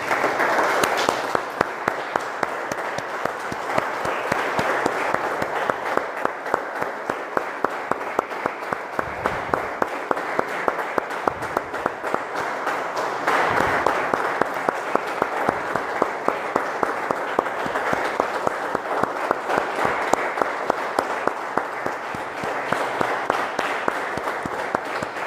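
A church congregation claps to honor the Lord at an evangelical worship service, a dense, sustained applause that stays loud and steady for about twenty-five seconds with no voices heard over it.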